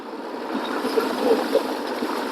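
Snowmelt stream in Ladakh rushing steadily, a dense continuous wash of flowing water heard close by with no voices, unbroken for the whole stretch.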